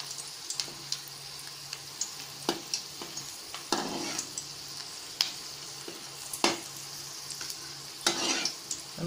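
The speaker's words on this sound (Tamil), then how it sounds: "எண்ணெயில் பொரிக்கிறது மட்டும்." Bread balls deep-frying in hot oil give a steady sizzle with sharp bursts of crackle and popping, alongside occasional stirring clinks, close and moderately loud with no talk.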